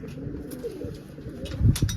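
Pigeons coo softly nearby on a rooftop loft while feeding on grain, with a few light scuffles and taps, and a louder burst of movement near the end.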